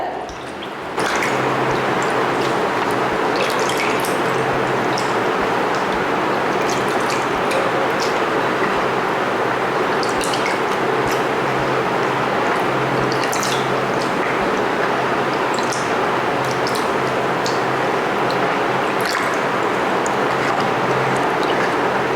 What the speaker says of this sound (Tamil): ஒரு 2-3 தண்ணியில் அலசி எடுத்துருங்க